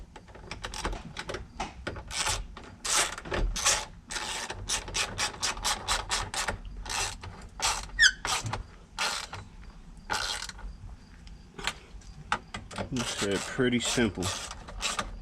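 Ratcheting 10 mm socket snugging tow mirror bolts on a 2005 Chevy Tahoe, a long run of quick close clicks in bursts with brief pauses, and someone speaks briefly.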